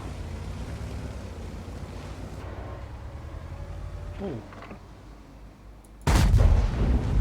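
In World of Tanks, a Maus Prototype VK 100.01 P heavy tank's main gun fires one loud, deep boom near the end, after a steady rumble of engine and ambient noise.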